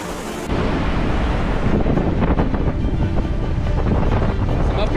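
Wind and waves on an empty beach along the Great Ocean Road, heavy wind buffeting the microphone over a constant roar of surf that sets in abruptly and stays loud throughout, with no clear talk.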